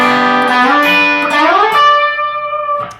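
Electric guitar plays the third part of a song intro, a clear, sustained melodic lead line with bending, gliding notes, heard alone and fairly loud.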